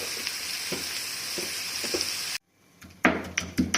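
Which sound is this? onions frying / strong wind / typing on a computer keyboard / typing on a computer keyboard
onions frying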